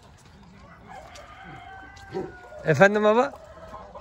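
Chickens cluck softly in a garden tent coop, then a rooster lets out a loud crow near the end. Someone speaks briefly over the birds.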